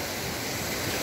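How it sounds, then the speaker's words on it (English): A flooded creek at a driveway crossing on an off-grid property pours over the culverts, a dense, steady roar of rushing water that fills the whole moment, close and loud with no voices. "My creek crossing has overflown, it's gone over the culverts."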